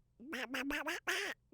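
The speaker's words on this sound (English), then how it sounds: "There's a mallard duck." Mallard duck by a creek quacking in a quick run of about five raspy calls, close and clear with no talk.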